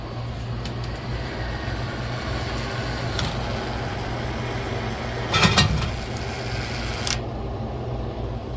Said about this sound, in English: you press the second button, it'll start the motor test